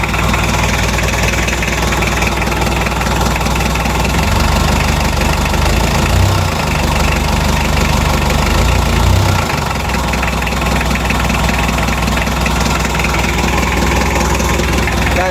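Hyundai Starex D4BB diesel engine idling after a semi overhaul, a loud, steady low rumble with an even mechanical clatter, running continuously up close.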